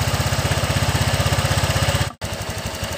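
A fuel-injected Honda Vario 125 scooter engine idling just after starting, a close, even rapid putter that cuts out briefly with a sharp click and then resumes at the same steady beat.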